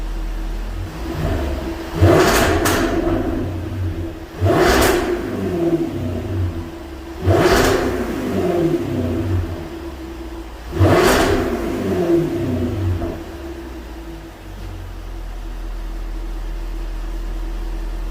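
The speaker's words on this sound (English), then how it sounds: "I'll let it warm up and then we'll do a little rev on it" A supercharged 5.0 V8 in a Jaguar F-Type R fitted with a BMC race air filter is blipped four times from idle, each rev rising sharply and falling back to a low, loud idle rumble between bursts.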